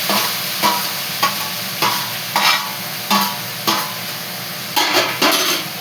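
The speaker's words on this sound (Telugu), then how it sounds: "ఇప్పుడు ఆనియన్స్ టమాటా వేసేసుకుంటాం." Onions and tomatoes frying in a pan crackle with a steady sizzle, broken by regular scraping strokes of a spatula about every half second to second, close and fairly loud.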